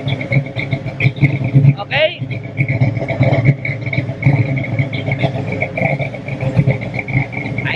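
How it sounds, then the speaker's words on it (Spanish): A gray 1970 Ford Mustang Fastback muscle car idles with a steady, rumbling engine note throughout, heard close by, while someone talks over it. "Ahí está el carrito prendido."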